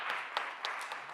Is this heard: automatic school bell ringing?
no